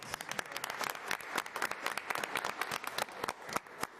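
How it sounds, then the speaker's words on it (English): Applause at a school committee meeting: a small room of people clapping steadily and fairly faintly for a few seconds, with no talk over it. "Round of applause."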